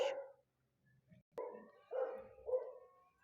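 A dog barks in short, sharp bursts, one early and then three more in quick succession, fairly close and clear against a quiet background.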